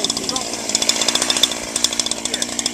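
Husqvarna chainsaw running close and loud, its engine idling in a rapid, steady pulsing rhythm for the whole stretch, with a voice talking over it.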